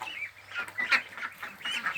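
A flock of Yi Liang ducklings about a month old gives rapid, overlapping high calls and honk-like quacks, near and fairly loud, filling the whole brief stretch without speech.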